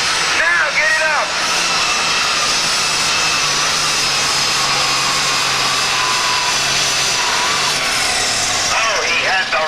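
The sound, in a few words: pulling tractor engine roaring at a tractor pull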